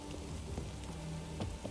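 Rain falls steadily in the video game The Witcher 3, a faint, even patter and hiss on surfaces with a few scattered drips, heard alone without talk.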